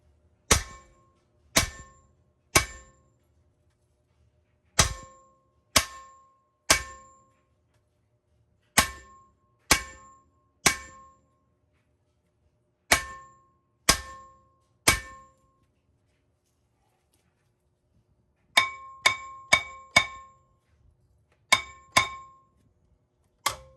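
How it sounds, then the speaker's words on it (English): Heavy metallic blows from a 5-pound hammer striking a Mercedes W220 brake rotor ring out one at a time with pauses between them, then a quicker cluster of strikes near the end. Loud and close, with no talking. "Typically solid hits right here with like a 5-pound hammer does the trick."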